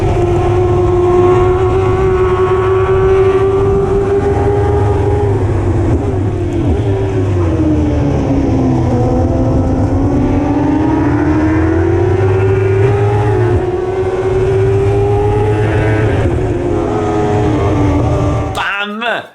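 Onboard a PC010 race car during race two at the Tazio Nuvolari circuit: a loud, sustained engine drone whose pitch sweeps down and back up as the car shifts and accelerates, ending in an abrupt cutoff.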